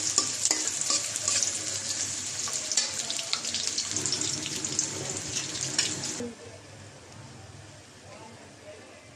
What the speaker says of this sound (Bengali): পেঁয়াজ কুচি পেঁয়াজটা ভেজে গেলে গেছে